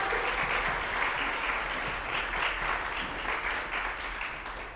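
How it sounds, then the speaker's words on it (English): A school committee meeting audience applauds the Drama Club, a steady round of many hands clapping at moderate distance, fairly soft and sustained before gradually thinning out. "How about a nice round of applause for the Drama Club?"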